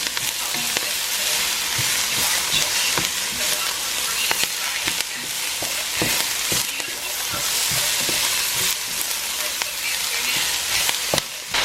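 Potatoes sizzle and fry steadily in a pan, a loud continuous crackling hiss with scattered pops and occasional stirring, close up and without speech.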